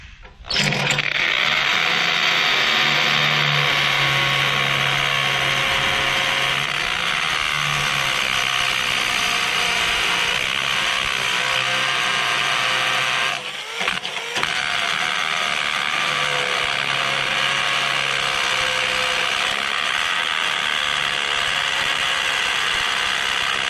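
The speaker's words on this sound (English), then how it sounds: "So I'm going to drill a few holes with a Milwaukee" Milwaukee hammer drill boring holes into concrete in a Quonset building, a loud, continuous grinding and hammering drone that runs steadily, briefly drops out midway, then resumes at full strength.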